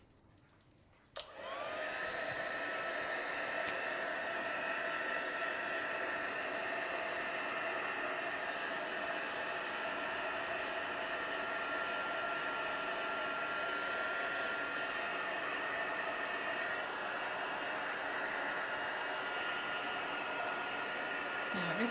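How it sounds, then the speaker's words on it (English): A handheld heat tool switches on with a click and blows a steady, close, even whoosh over wet craft paper for a long stretch, with no talking. "So I'll just dry that with my heat tool."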